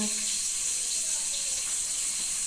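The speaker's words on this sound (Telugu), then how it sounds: "మన చేతిలో పట్టేంత చింతపండు తీసుకుని కడిగి నానబెట్టుకుందాం" Tap water runs steadily over tamarind being washed by hand, a constant close rushing splash with little variation and no clear speech.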